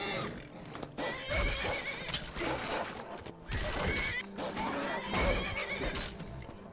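A video game horse whinnies and snorts up close while hooves clop beneath, the sounds loud and continuous with a synthetic quality.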